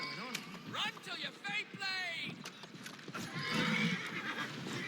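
Horses neighing and whinnying with clip-clopping hooves in the Assassin's Creed Syndicate video game, several loud whinnies in quick succession over a busy background, with some talk underneath.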